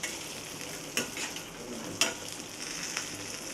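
Raw jackfruit sautéing in a pan, a soft steady sizzle broken by a few sharp scrapes and knocks of a spatula, close by and with no voices.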